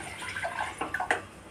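Tamarind water being poured into a pan for rasam on a gas stove, a brief soft splashing and trickling of liquid with a couple of small splashes near the end.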